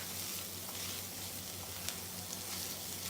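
Garlic sautéing in a pan for chicken in creamy mustard sauce, a soft continuous sizzle with faint crackles, steady and close, with no talking.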